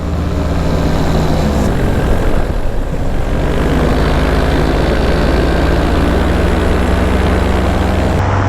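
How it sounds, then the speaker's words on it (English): A continuous buzzing propeller engine of a small RC model airplane drones steadily, loud and close, with a slight shift in pitch partway through. "Little RC airplane."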